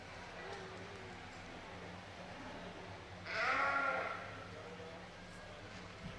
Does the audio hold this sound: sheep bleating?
yes